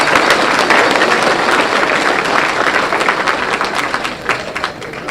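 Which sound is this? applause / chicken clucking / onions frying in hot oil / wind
applause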